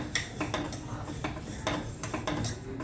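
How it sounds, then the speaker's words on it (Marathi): Semolina roasting in ghee in a pan, stirred with a spoon that scrapes and clinks against the metal in irregular strokes, with a low steady sizzle underneath, close and fairly quiet. "रवा भाजतोय थोडा थोडा पांढरट व्हायला चालू झालंय"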